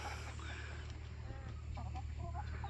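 Chickens clucking softly among tomato beds in a backyard vegetable garden in July, several short cluck calls at moderate distance over a steady low background hum.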